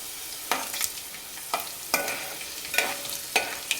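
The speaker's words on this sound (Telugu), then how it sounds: "ఎల్లిపాయలను అయితే మొత్తం ఇలా బ్రౌన్ కలర్లో వచ్చేంత వరకు అయితే మగ్గించుకోవాలి" Onions fry in a pan until brown, a soft continuous sizzle broken by several sharp scraping stirs at regular intervals, close by and with no talking.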